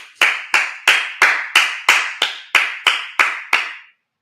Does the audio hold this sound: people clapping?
yes